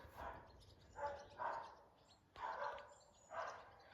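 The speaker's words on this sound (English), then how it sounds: "I can hear some dogs in there barking" Faint, distant barking from border collies on a cattle and sheep farm in England comes in several short bursts, with light birdsong around them.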